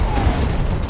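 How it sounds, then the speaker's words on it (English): Dense gunfire aimed at an armored mechanical monster, a loud continuous barrage of overlapping shots and booms packed into one second, with no voices. "unleashed dense gunfire at the mechanical monster"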